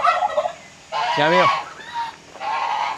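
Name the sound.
bird calling in a garden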